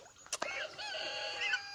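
Young ducks and geese, about six weeks old, in a flock at a small pool, giving soft, high peeping and chirping calls close by, with a couple of sharp splashy clicks at the start.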